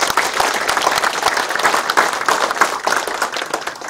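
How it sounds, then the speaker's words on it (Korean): An audience at a city mayor's town-hall meeting applauds loudly with sustained, dense clapping that holds steady for several seconds. "힘찬 박수 부탁드립니다."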